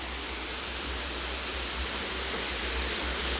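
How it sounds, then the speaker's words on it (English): Lampi waterfall in Khao Lak, swollen by rainy-season rain, gives a steady, dense rushing roar with a strong low rumble that holds even and unbroken throughout, no voices. "Beautiful waterfall though, I've got to say, especially today with all the rain."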